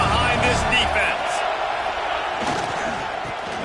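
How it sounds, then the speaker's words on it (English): A stadium crowd at a Texas A&M vs Oregon college football game keeps up a broad, continuous roar as the teams face a big third down, heard under a commentator talking. "Big third down as the crowd gets behind this defense."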